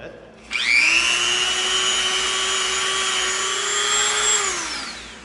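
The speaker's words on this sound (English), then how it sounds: "Now what we can do is we can come in with a smoother Dremel bit." A small Dremel rotary tool whirs up to a high, steady whine, holds it for several seconds while smoothing an EVA foam edge, then winds down.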